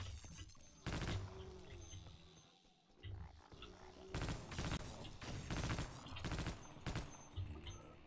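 Weapons fire in Half-Life: Opposing Force comes in several loud, rough bursts, one early and a cluster later. Quieter stretches between them carry low rumbling and game noise.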